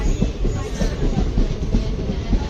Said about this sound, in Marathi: आपली गाडी one zero one zero four Mandvi express आलेली आहे प्लॅटफॉर्मवरती